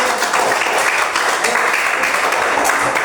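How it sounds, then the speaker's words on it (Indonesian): Students in a classroom clapping together after a group presentation, a loud, dense and even round of applause filling the room from start to finish. "kita tepuk tangan sekali lagi"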